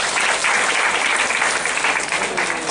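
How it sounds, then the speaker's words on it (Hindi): A classroom audience at a teaching session breaks into dense, even applause, many hands clapping together at a steady level for a few seconds. "माइक के लिए हम तालियां बजाएंगे।"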